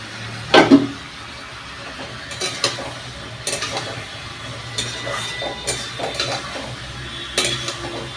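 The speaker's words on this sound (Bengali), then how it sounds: "এখন আমার রান্নাটা মানে চিকেনটা আমি কষাচ্ছি" Chicken braising in a pan with a little oil, low background sizzle broken by repeated clanks and scrapes of a spatula against the pan, some sharper knocks, no voices.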